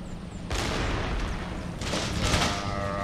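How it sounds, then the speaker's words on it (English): Enemy gunfire in the strategy game Empire: Total War: a sharp volley cracks out, then a second crackling burst of shots follows over a constant battlefield rumble. "As you can see, they will be shooting at us."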